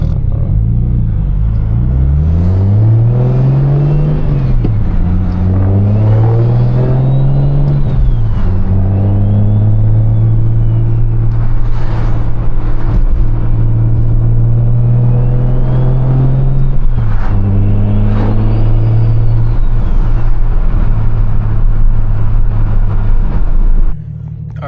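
A BMW with an N54 engine after an injector replacement drives on a road test, its engine note rising and falling through repeated gear changes, steady and loud throughout with no talking.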